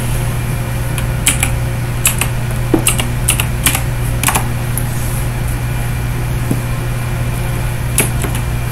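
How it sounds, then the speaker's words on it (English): Scattered keyboard taps in short irregular bursts over a steady low mechanical hum, with no voices. "I'm just, like, typing."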